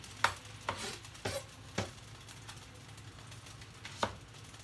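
A kitchen knife chopping onions on a cutting board, a handful of sharp, irregularly spaced knocks heard close and alone without talk.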